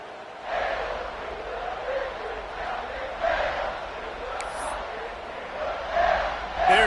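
A football stadium crowd roars steadily after an extra point and ahead of the kickoff, a broad sustained swell of cheering with louder surges, under a commentator's voice.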